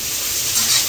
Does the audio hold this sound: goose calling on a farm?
no